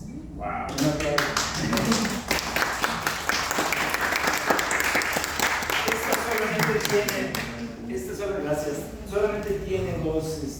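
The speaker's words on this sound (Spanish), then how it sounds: "un aplauso" An audience at a prehispanic music class bursts into clapping, a dense, close burst of many hands, while voices talk and laugh over it as it thins out toward the end.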